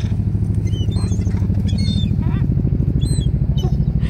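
Seagulls calling at Cannon Beach: shrill, repeated cries that come in short bursts and sit over a loud, steady rumble like an engine or surf that runs under the whole stretch.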